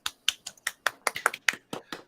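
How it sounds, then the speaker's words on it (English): A dozen sharp, close hand claps in a quick, slightly uneven rhythm over about two seconds, crisp and isolated with no talk. "So put your little hands together, everybody, and give it a good clap."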